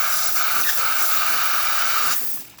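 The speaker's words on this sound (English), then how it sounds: "You can see the steam's coming out fine." A coffee machine's milk frother steam wand, just repaired, lets out a loud, steady hiss of steam for about two seconds before cutting off abruptly.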